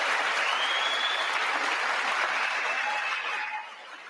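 Audience applause at a political speech on buying American: a dense, sustained crowd of clapping that holds steady and then eases off slightly at the end.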